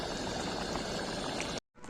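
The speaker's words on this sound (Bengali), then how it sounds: "টকবক টকবক করে আওয়াজটা শুনতে পাচ্ছ" Egg curry bubbling steadily in a pot, a dense continuous simmering hiss and burble heard up close, then cutting out briefly near the end.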